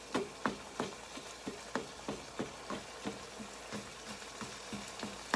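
Ground beef sizzles steadily in a frying pan while being browned, with a series of sharp clicks and taps from a utensil against the pan in a loose rhythm over the constant frying hiss. Close and moderately quiet, with no talking.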